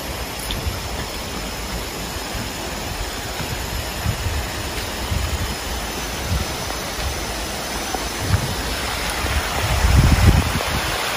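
A small river in Lampung, littered with rubbish, flows with a steady broadband rush of water heard alongside a road trip, continuous and fairly close, with a heavier low rumble near the end.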